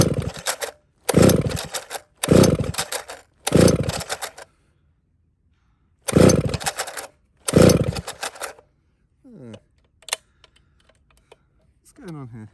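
An old chainsaw is pull-started again and again, giving a series of short, loud rasping bursts separated by pauses, followed by quieter clicks and handling noises.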